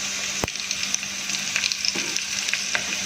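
Kadhi batter sizzles in hot oil tempering with a steady crackling hiss, a sharp clink near the start and small stirring knocks throughout.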